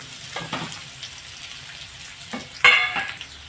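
Ten to fifteen curry leaves dropped into hot oil and stirred with a spoon give a soft, steady sizzle broken by a few spoon scrapes and one sharp metallic clink against the pan.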